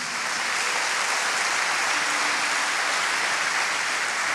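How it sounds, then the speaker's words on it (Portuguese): Church congregation applauding in a dense, continuous wash of clapping that holds steady and fairly loud throughout, with no talk over it. "Aplauda o nome de Jesus."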